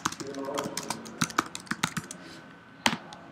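Typing on a computer keyboard, a close run of quick, uneven clicks and taps with brief pauses and a final sharp keystroke, while a voice speaks faintly beneath.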